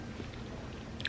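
Someone bites into and chews a fresh strawberry, close and quiet, with soft wet mastication and a small crunchy bite sound near the end.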